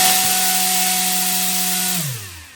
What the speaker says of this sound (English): The 9-inch 4-blade 3D printed folding propeller.